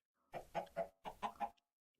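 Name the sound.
chicken clucking in the video game Minecraft (All the Mods 10)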